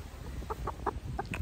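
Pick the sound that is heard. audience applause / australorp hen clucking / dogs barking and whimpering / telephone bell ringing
australorp hen clucking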